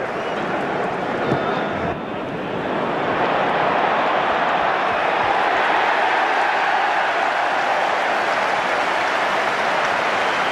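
A stadium crowd at a 2002 England versus Australia rugby test match applauds and cheers in a steady, dense roar that stays loud and even throughout, with a faint tone early on.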